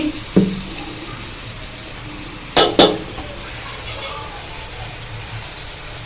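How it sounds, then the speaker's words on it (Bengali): Chickpea kochuri, a Bengal gram stuffed fried bread, cooks in hot oil with a continuous hiss of sizzling, broken by a couple of sharp clatters of a utensil against the pan. "এবার তেলে আমি আর একটা কচুরি দিয়ে দিচ্ছি"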